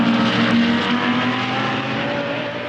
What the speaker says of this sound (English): And here comes the Campbell entry now